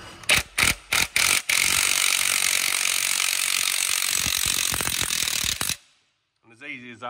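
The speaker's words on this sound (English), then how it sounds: "So they do like these little compact bearing pullers" A compact bearing puller strips a bearing off a Vaderstad seed drill disc: sharp, close metallic clicks give way to a loud continuous grinding, mechanical rasp that ends abruptly, followed by a short voice.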